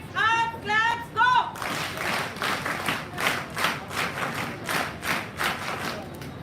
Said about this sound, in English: Hands up, claps, go!